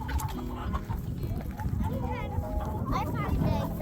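Chickens cluck and murmur inside a backyard chicken coop, a busy layer of fowl calls close by, partly under people talking.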